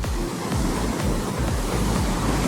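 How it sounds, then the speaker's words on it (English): Wind blows hard across a sandy beach, battering the microphone with a constant loud roar and regular low thumping gusts, with no voices. "I'm working with sand and wind over here."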